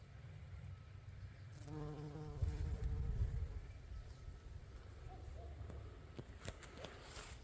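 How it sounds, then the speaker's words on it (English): A bee buzzes around vetch in a garden behind a house in July, a close, steady drone that swells and fades as it moves, with faint outdoor background and no speech. "There's a busy little bee."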